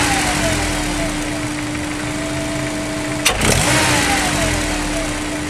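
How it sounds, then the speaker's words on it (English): Turbocharged car engine with a Synchronic blow-off valve letting it draw air past the turbo, idling steadily with a constant tone, then a sharp throttle blip and a brief rise in revs midway. "Now listen to the engine tone and how the engine tone changes because I'm allowing it to suck air through the blow-off valve"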